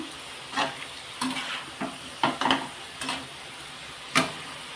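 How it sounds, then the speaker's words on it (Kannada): A homemade birthday sweet fries in oil over a slow flame, a soft steady sizzle broken by several short stirring scrapes and clinks spaced unevenly. "slow ಉರಿಯಲ್ಲೇ fry ಮಾಡ್ಕೊತೇನೆ"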